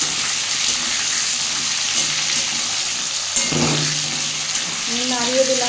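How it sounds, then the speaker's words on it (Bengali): Sliced potatoes and tomatoes fry with a pinch of salt in a pan, holding a constant close sizzling hiss, a single clink midway, and a brief voice toward the end. "সামান্য একটু নুন দিয়ে আমি চাপা দিয়ে ভেজে নেব।"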